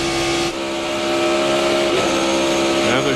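A NASCAR stock car driven by Dale Jarrett at the 2000 Pocono 500 roars loudly at close range, its engine pitch dropping and climbing through quick gear shifts, with a commentator speaking over it.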